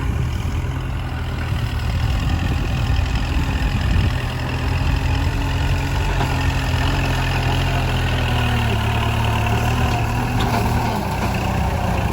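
A Kubota L5018SP tractor engine runs steadily while ploughing rice stubble, a loud, low mechanical drone with constant rumble and no pauses.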